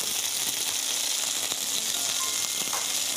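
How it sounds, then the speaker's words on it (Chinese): Asparagus stir-fries in a pan with garlic, giving a steady, close, hissing sizzle with faint clicks of stirring, unbroken and without speech. "而家喺度炒緊個蘆筍嗰個半碟嗰個邊"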